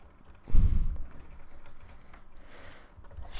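Typing on a worn, faulty computer keyboard while coding: a loud burst of key clatter near the start, then lighter scattered keystrokes and clicks continuing quietly, with no talking.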